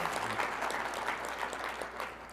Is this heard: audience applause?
yes